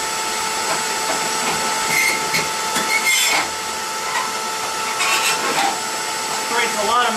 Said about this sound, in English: take this cleaning rail and we're going to run it up and down about 4 or 5 times